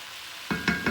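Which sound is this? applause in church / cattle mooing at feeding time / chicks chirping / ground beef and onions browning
ground beef and onions browning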